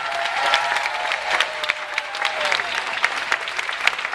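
Sustained applause and cheering from a festival audience after a talk, dense, crackling clapping throughout with scattered sharper claps and a few shouts in the crowd.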